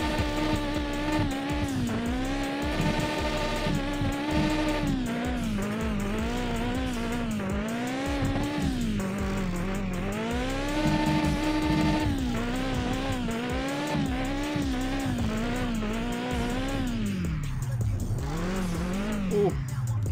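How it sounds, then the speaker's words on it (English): Car drifting and spinning donuts in the video game Mon Bazou: a loud, continuous engine note that rises and falls with revving, with tire squeal layered over it throughout. "Literally, I'm doing donuts around Martin's car right now"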